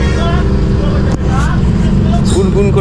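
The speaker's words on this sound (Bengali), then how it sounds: "গুনগুন করে বাস চলছে আর কুলকুল করে এসির হাওয়া বইছে" Air-conditioned bus driving along, a loud steady engine drone and rumble filling the cabin with AC airflow blowing, while passengers talk over it throughout.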